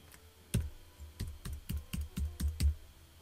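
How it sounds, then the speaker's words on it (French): A computer keyboard being typed on as a password is entered, about eight distinct clicking keystrokes at an uneven pace, close and fairly quiet with no voices. "Saisissez-le directement au clavier."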